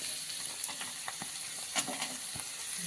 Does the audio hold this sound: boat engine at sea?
no